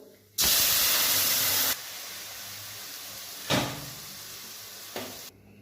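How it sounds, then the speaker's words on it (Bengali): Boiled chana dal tipped into a hot pan gives a loud burst of sizzling hiss that settles into a steady lower sizzle, broken by two more short hissing flares. "এবার এর মধ্যে আমি সেদ্ধ করে রাখা ছোলার ডালটা দিয়ে দেবো।"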